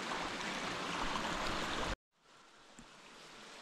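A small waterfall and stream rush steadily under a natural rock bridge in Morocco, a dense close hiss of flowing water that cuts off abruptly halfway, leaving only faint background noise.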